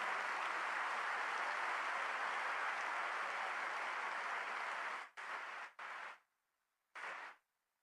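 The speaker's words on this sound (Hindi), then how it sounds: "एक बार घनघोर ताली बजाओ और आपका स्वागत करा" A convention audience at the Maheshwari Global Expo in Jodhpur applauds in a dense, sustained wash of clapping that breaks off abruptly into a few short bursts separated by silence.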